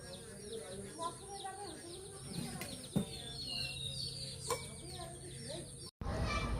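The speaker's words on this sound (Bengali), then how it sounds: "আপাতত মুরগিগুলো ওইখানে রাখি" Chickens clucking at a small home poultry farm beside a kitchen, repeated close clucks and calls over a steady background hum, ending in an abrupt cut.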